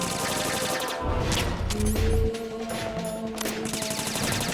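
Gunfire in the video game Metal Gear Solid 2, rapid bursts of shots with crashing impacts over game sound effects and music, loud and close, with no talk.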